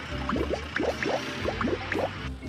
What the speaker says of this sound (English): there's something dripping from his tanker.